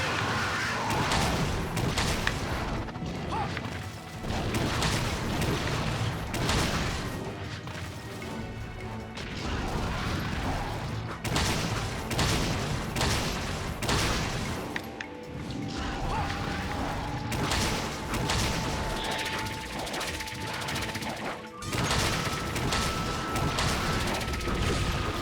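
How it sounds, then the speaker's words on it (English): Blast detonations in the video game Monster Hunter 3 Ultimate come as repeated crashing bursts and whacking impacts. They sit inside a dense, loud battle mix with music and clashing effects that runs the whole time. "Nice blast detonation, which, yeah, it's going to enrage him, but at least it's a nice chunk of damage."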